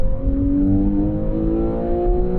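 A Porsche 911 Carrera 4S engine revs hard and climbs steadily in pitch, a loud, close, continuous rising note with no talk over it.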